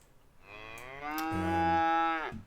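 A single long, loud cow moo from the Project Gorgon video game, rising in pitch partway through and holding steady for about two seconds before cutting off, heard alone.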